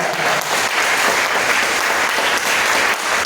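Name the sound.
church congregation applauding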